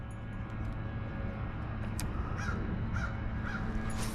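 Crows caw near a crappie and bass pond, a few short hoarse calls spaced about half a second apart, moderately distant, over a steady outdoor hum of wind and background noise, with no talk.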